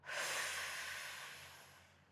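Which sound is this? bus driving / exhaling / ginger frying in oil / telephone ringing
exhaling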